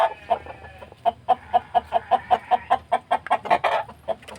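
Repeated short clucking calls from a chicken with a snoring respiratory illness, a rhythmic series of close, fairly loud bursts with no talking.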